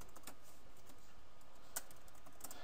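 Quiet, rapid keystrokes on a computer keyboard as commands are entered in a faction server tutorial, a soft steady clatter with one slightly sharper click near the end.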